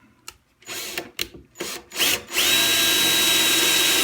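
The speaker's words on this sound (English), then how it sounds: "I recommend an 1/8 inch to start your pilot hole" Power drill boring a pilot hole with a 1/8 inch bit for a Green Can Locker installation: a few short stuttering trigger bursts, then a loud, steady, high whine as the bit runs continuously, close by.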